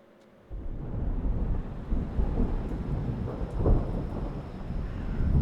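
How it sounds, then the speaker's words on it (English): Heavy rain pours in the video game Dreamfall Chapters, with a deep, rumbling roll of thunder swelling in and out beneath it, loud and continuous after a quiet opening moment. "Damn, it's even raining."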